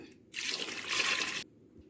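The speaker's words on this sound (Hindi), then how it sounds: "अब हम कुकर में 1 कप पानी ऐड कर देंगे" One cup of water poured from a vessel into a pressure cooker holding peeled, quartered potatoes, giving a brief, close splashing gush of about a second, with no talk over it.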